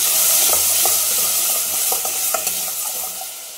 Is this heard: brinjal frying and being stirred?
yes